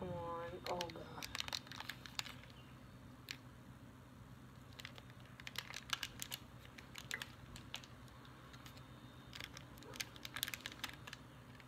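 Hands crinkle, pull and tear at a Kool-Aid drink-mix packet up close, with crackling bursts coming in scattered clusters, while a voice is faintly present at times.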